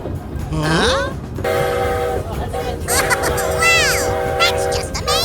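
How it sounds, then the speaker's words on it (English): A passenger train's horn sounds in sustained, harmonically rich blasts over the rumble of rail travel, loud and close, while a child and an adult talk excitedly throughout. "That's a good horn, isn't it?"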